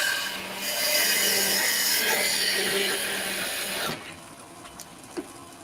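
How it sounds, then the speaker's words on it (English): Woodturning tool taking a planing cut across spinning wood on a lathe, a steady loud scraping hiss for about four seconds that then stops, leaving a quiet room with a couple of faint taps. "You actually angle the tool across a little bit like this, and you do a planing cut with the edge of it."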